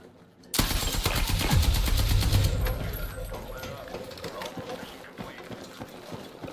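Gunshots in a first-person shooter video game: a sudden dense burst of rapid automatic fire that tapers into scattered shots and rattling game noise, with a voice talking over it.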